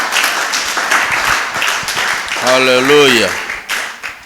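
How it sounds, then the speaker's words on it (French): An audience in a church applauds in a dense crackle of clapping throughout, while a voice sings out a long drawn exclamation over it. "Let us give a round of applause to God."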